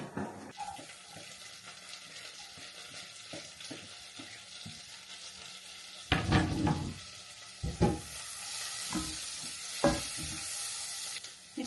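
Butter melting and sizzling in a hot pan, a soft steady crackle with several louder bursts and knocks partway through as it spreads, no talking.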